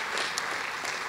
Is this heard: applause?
yes